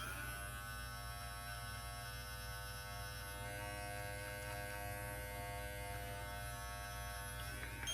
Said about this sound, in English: I'll get some of that with a detail blade on my razor